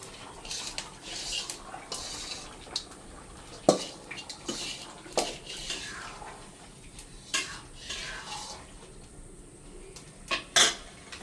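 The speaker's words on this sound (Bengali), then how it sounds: "এখন আমি আলুগুলো দিয়ে দেব।" Potato pieces go into a pot of cooking chicken amid clattering pot and utensil knocks, scraping stirs and intermittent thuds, fairly close, with no talking.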